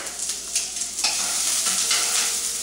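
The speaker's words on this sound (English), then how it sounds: "Saute this up a little bit." Tomatoes and garlic sauté in hot olive oil with a steady close sizzle, broken by a few scraping stirs of a utensil in the pan, and no one speaks.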